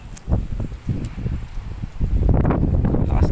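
Gusty wind buffeting the microphone, low rumbling blasts that grow stronger and steadier toward the end, with faint rustling.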